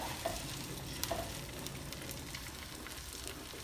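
A stuffed French toast bomb sizzles in a hot pan, a soft, even frying hiss close by with a couple of faint ticks early on and no voices.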